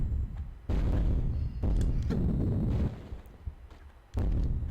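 Bursts of Uzi gunfire in the video game Tomb Raider Remastered, several loud, booming volleys with short gaps between them, each lasting about a second.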